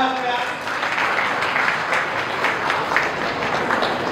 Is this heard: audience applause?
yes